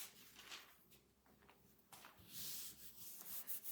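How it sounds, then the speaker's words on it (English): Something is rubbed along the edge of a wooden picture frame to mark a cutting line, giving a soft, dry scraping sound that comes in close strokes and grows louder and longer toward the end. "I'm just kind of rubbing along this edge so it's just leaving a mark of where I need to cut"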